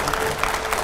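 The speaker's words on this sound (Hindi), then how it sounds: "जोरदार तालियों से स्वागत कीजिए देश के बेहद लोकप्रिय राजनेता" Studio audience applause greeting Congress general secretary Sachin Pilot on a TV9 talk show: a brief, steady burst of many hands clapping at a moderate level, with no voices over it.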